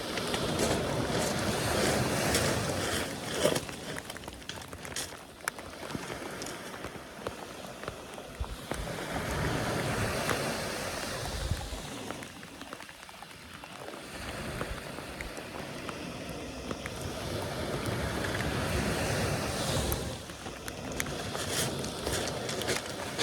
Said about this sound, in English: the rain is coming down and I'm trying to keep my phone covered